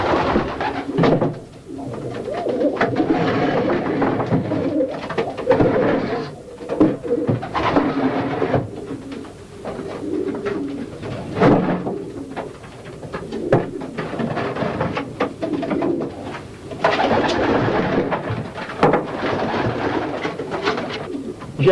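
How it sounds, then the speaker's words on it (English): Racing pigeons coo inside a loft, a dense, continuous chorus of soft throaty coos from many birds at close range, rising and falling in waves with no talking. "to the pigeons before they go?"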